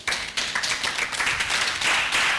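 A church congregation at a leaders' training camp breaks into brisk, dense applause, many hands clapping together in a steady close-up burst.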